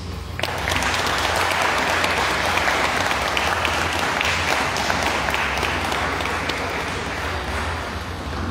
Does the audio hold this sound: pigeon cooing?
no